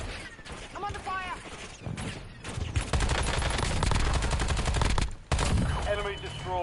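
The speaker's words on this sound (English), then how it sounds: "I'm under fire!" Rapid bursts of automatic gunfire in a battle royale shooter game, with overlapping volleys and sharp shots, mixed with game voice lines and explosions in the background.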